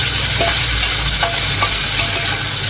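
Soaked ingredients for braised mixed cabbage frying in a pan, a loud, continuous sizzle with a few light stirring knocks, close and without talk.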